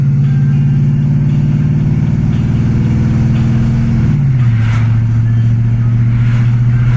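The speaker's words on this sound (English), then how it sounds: "I'm giving it kind of light throttle. I believe that's overdrive." A 1982 Ford LTD cruises on light throttle with a steady mid-low engine drone, then the transmission shifts into overdrive about two-thirds through, and the engine note drops noticeably and settles lower.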